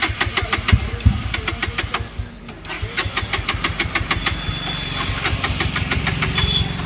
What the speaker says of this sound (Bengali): দেখা তো এখন তোমরা দেখলে যে স্টার্ট নিচ্ছে না, দেখো স্টার্ট নিচ্ছে না